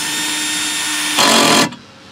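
A power drill whirs steadily while adjusting the emergency brake on a 2005 Toyota Highlander AWD, then surges louder for about half a second before cutting off abruptly, close up with no talk.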